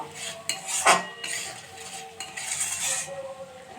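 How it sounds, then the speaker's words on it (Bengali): Green chillies stirred into spices frying in oil in a pan for a mustard-poppy pabda fish curry, metal spoon clinks and scrapes against the pan over a light sizzle, close by. "এখন কিছু কাঁচা লঙ্কা দিয়ে দেব এর মধ্যে, দিয়ে একটু নেড়ে চেড়ে নেব"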